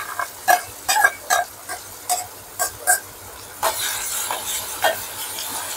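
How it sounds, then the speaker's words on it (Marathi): Ground spice paste frying in hot oil, with a series of crisp spoon knocks and scrapes against the pan at an uneven rhythm, then a broader hissing sizzle swelling up near the end, close by. "हा वाटण पूर्ण तेलावर भाजून घेऊया."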